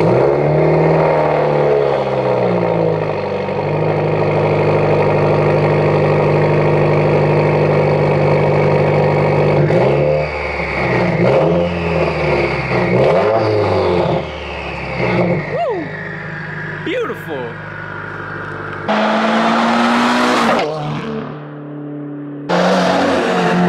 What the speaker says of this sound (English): as you heard, you saw some flybys, you saw the revving a little bit